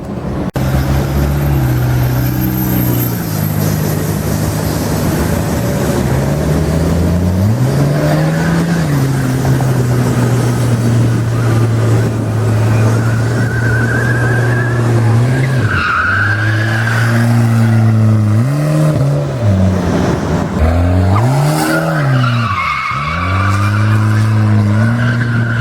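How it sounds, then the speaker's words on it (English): A lightened turbo wagon drifts, its engine droning loud and close while the tires skid and squeal in long, repeated sweeps, the engine note rising and dipping with each slide. "I'm gonna let Scott drift and we'll film a couple of him"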